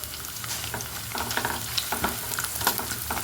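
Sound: coconut frying in a pan

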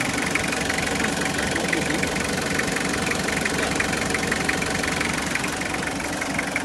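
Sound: Chevrolet S10 engine idling smoothly

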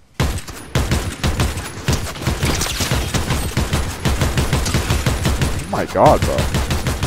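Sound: SMG and rifle gunfire in Fortnite, a video game

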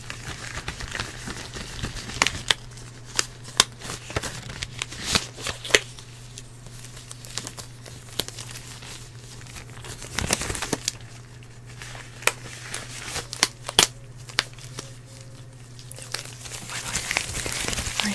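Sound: putting on gloves

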